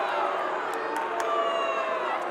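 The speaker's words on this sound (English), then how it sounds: "The crowd's asking for a stall" A wrestling arena crowd at an NCAA college match shouts and roars steadily, a dense continuous wall of voices with a few sharper yells rising above it, loud and sustained throughout.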